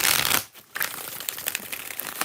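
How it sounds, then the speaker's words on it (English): Tarot cards are shuffled by hand during a live reading, giving a loud riffling burst, a short pause, then softer repeated papery flicks and rustles close by, without talk. "5 shuffles for Nick."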